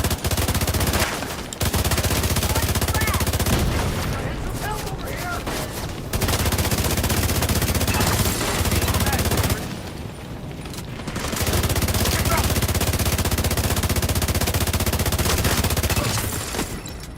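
Bursts of automatic gunfire from the video game The Division 2 rattle in long sustained volleys, broken by brief pauses, loud and close throughout.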